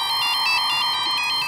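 A mobile phone rings with a repeating electronic tone in short pulses, steady and fairly loud, with nobody speaking.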